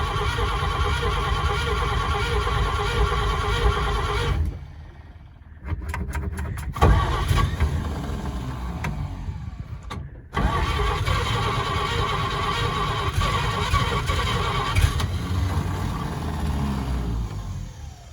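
A 1938 Chevy Master Deluxe starter cranks the engine in long, steady churning stretches, broken by two brief pauses with a few quick bursts, loud and close throughout.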